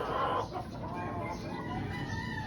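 Brood hen and other chickens clucking in a gamefowl yard, soft low clucks faintly under ambient noise, with a brief louder call at the start.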